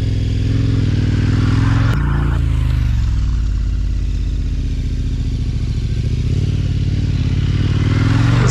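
An adventure motorcycle rumbles close and loud while leaning through corners on a training ride, its engine note dipping and rising as the throttle eases and picks up again, with a brief scrape partway through.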